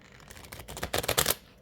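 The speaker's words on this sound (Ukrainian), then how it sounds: "трошки потасую" A deck of Italian tarot cards shuffled by hand, a soft flurry of riffling card clicks that builds to a quick crisp burst and then stops, close and quiet, with no talking.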